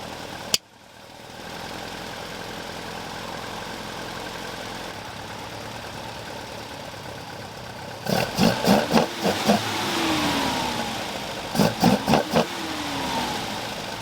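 A 1971 Opel Manta A engine with dual carburettors idling steadily after a sharp opening click, then several quick bursts of sputtering and blipped revs in two clusters.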